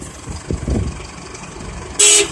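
A pickup truck's horn gives one short, loud toot near the end, after quiet cabin sounds and faint movement during a driving lesson for an automatic pickup.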